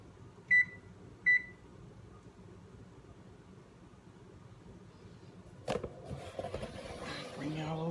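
Two short, sharp electronic beeps from an oven control panel as the timer is set, followed by quieter clunks and rustling kitchen handling noise later on.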